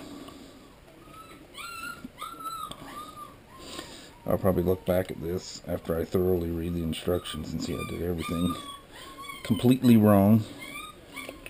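Labrador puppies whimper and squeak in the background, a litter of seven giving thin repeated high cries throughout while someone talks over them in the foreground.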